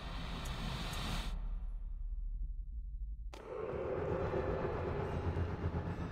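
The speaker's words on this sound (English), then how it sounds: "My Lizzie, what is this train's destination?" Train running in the video game Alice Madness Returns: a loud, steady rumble and rattle that drops out abruptly for about two seconds, then resumes with a dense, continuous roar.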